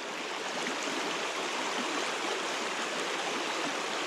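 A river running high after rain rushes in a dense, continuous broadband roar, loud and steady throughout with no voices over it.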